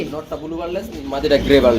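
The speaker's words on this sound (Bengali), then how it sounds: "মানে এটা হচ্ছে বিউটি কবুতর এটা হচ্ছে রেসার কবুতর" Beauty and racer pigeons coo softly in a low, throaty murmur close by, mixed with people talking over them.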